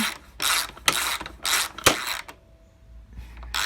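A ratcheting wrench loosening a bolt on a Honda Shadow 700 motorcycle clicks in several bursts of rapid mechanical ratchet sounds, close up, with short pauses between strokes.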